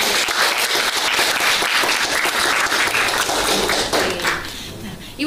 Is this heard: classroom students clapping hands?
yes